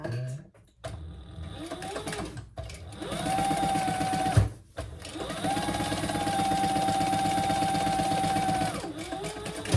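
A sewing machine runs in two long steady stitching passes, basting a crossbody bag's lining flat, close and loud with brief pauses between runs and no talking.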